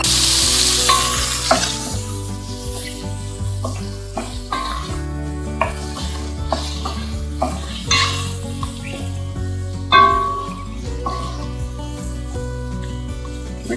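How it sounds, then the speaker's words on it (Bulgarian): Lamb lungs and heart fry in a pan, a loud close sizzle with stirring and scraping clatter as the pieces are moved around, interrupted by sharper knocks of utensils against the pan. "Пържваме леко дреболийките."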